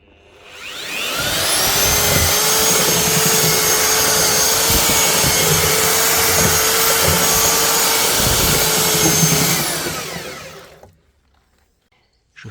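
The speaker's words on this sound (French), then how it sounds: "avec un mélangeur, on va broyer la terre, la mélanger avec l'eau pour qu'elle soit à l'état de barbotine" A mixer grinds garden soil with water into a clay slip in a tank, its motor spinning up to a loud, steady whir, holding for several seconds, then winding down and stopping.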